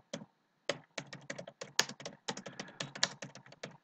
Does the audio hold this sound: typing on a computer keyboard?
yes